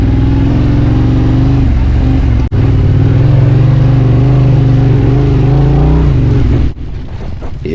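A dirt bike engine labours in mud on a wet trail, its tyre treads clogged, holding a loud, close, steady drone with a brief cut and a drop in power near the end.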